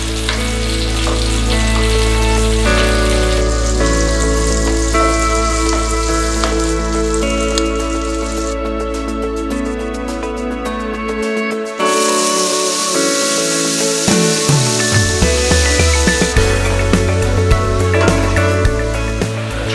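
Salmon frying skin side down in butter, a steady sizzle under loud tonal background music, no talking.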